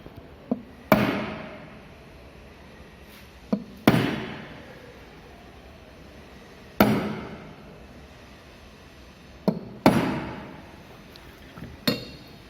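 A hammer drives a center punch into metal in a workshop, sharp ringing metallic strikes with long decaying tails, spaced irregularly, about eight blows, some single and some in quick pairs.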